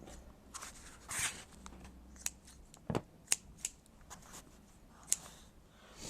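Quiet snips of scissors cutting lengths of yarn for a woodland altar pentacle craft, several crisp sharp clicks scattered irregularly, close and faint.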